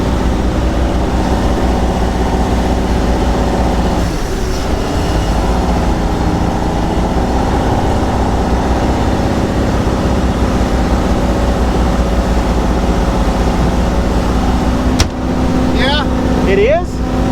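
An old boat's engine runs steadily at full throttle out on a lake, a loud, unbroken low droning roar that holds constant throughout, with brief knocks and rattles near the end.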